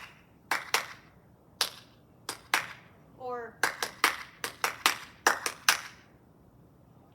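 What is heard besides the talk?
hand clapping the rhythm of hurdle strides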